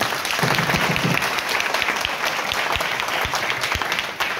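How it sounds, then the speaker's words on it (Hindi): Loud, sustained applause from a workshop audience fills the room, dense clapping with crowd noise running steadily throughout. "इसलिए आप अपने लिए जबरदस्त ताली बजाइए।"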